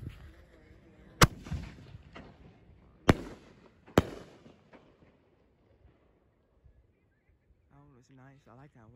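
Six-inch brocade crown and gold crown firework shells bursting on the 3rd of July: three sharp loud booms with crackling tails fading away, and a faint voice near the end.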